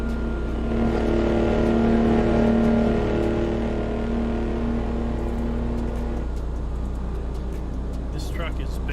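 A loud truck engine in American Truck Simulator, a deep steady roar with a strong low drone that rises slightly then eases, while someone talks over it throughout.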